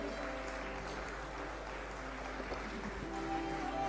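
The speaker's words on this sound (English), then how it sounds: "Please give a big round of applause and welcome our President" An audience at an international Ayurveda summit applauds to welcome its president, with a diffuse, fairly faint clapping wash sitting under a steady low hum and room noise.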